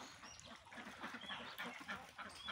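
Ducks, Khaki Campbell, at an afternoon feeding, give off a steady busy stream of dabbling, splashing and soft quacking and honking calls, moderately close and continuous, with no talking.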